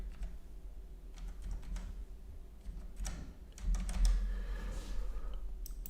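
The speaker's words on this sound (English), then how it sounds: "Bring this keyboard over to me." Fingers type on a computer keyboard during a live stream, giving a quiet, irregular patter of clicks and taps over a low room hum.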